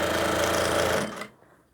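A sewing machine stitching the seam of a double-sided jacket, a fast steady mechanical whir close by that stops abruptly after about a second.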